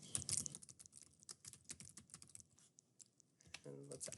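Quick, close clicks of a computer keyboard as search terms are typed, with irregular bursts of keystrokes and short pauses.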